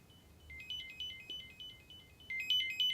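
A finder tone from Bose SoundSport Free earbuds plays as a series of short high electronic chirps in repeating bursts, growing louder toward the end, close and alone.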